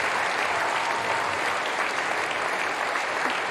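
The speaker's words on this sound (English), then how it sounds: "A rousing round of applause for members of the orchestra." A concert audience at an outdoor orchestra performance of Ravel's Piano Concerto in G gives steady, dense applause for the orchestra members, a full wash of clapping that holds at an even level throughout.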